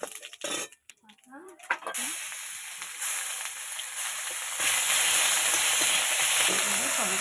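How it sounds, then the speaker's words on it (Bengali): Dried red chillies and cumin seeds tempering in hot oil for a Bengali prawn and bitter gourd curry, starting with a few clinks and then building into a steady, loud, close sizzle that grows stronger near the end. "শুকনো লঙ্কা, জিরে ফোড়ন দেব।"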